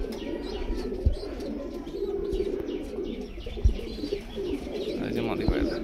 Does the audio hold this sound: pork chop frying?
no